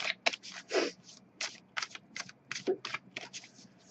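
A deck of oracle cards is shuffled by hand, a run of quick, crisp riffles and flicks in short bursts, close and fairly quiet, with no talk.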